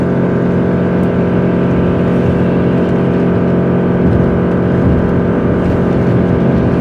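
Engine of a 2015 GMC Canyon pickup held at full revs during a towing test, a steady, loud droning hum with dense low harmonics that runs unbroken from start to finish.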